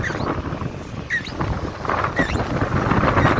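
Strong wind buffets the microphone in a dry desert spot, a steady broadband rush that gusts and swells louder toward the end, with faint scattered chirps above it.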